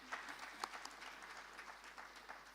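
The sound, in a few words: audience applause for conference panelists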